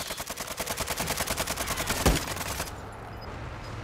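Rapid automatic gunfire in a first-person shooter game, a fast regular burst of shots lasting over two seconds with one louder blast, then cutting off into quiet background.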